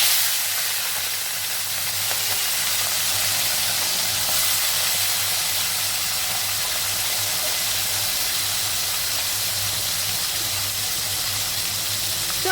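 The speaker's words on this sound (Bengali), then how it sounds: "তো আমি চিংড়ি মাছগুলোকে আগে ভেজে নিই।" Prawns fry in hot oil with tempered spices, giving a steady, loud, unbroken hiss and sizzle close by, with no voices.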